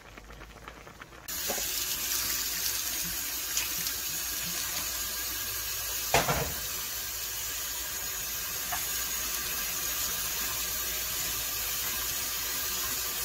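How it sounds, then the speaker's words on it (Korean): Boiled glass noodles are rinsed under cold running water, a steady tap splash into a sink that starts abruptly and continues evenly, with one brief louder clatter partway through. "이렇게 삶아진 당면을 찬물에 헹구겠습니다."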